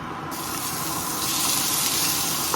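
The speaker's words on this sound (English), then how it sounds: "we're just gonna saute this so it's nice and golden" Ham sautéing in a hot pan for a crustless quiche gives a steady, loud broadband sizzle that swells brighter partway through and holds without pause, with no voices over it.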